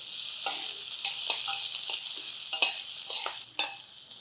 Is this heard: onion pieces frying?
yes